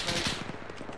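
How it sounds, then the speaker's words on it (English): Rapid automatic gunfire in a WW2 Arma 3 battle at Remagen, a loud close burst of repeated shots with a steady rattling rhythm, no speech. "Feels like I'm getting shot through the wall"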